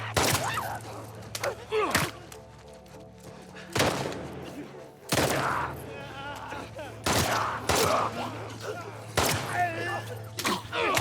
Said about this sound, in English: Out of ammo, so we bomb.